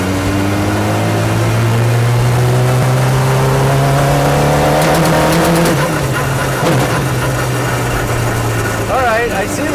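Motorcycle engine fitted in a LeMons racecar running at a high idle, a loud steady droning hum with a slight rising pitch, close by, with talking and some clattering noises over it toward the end.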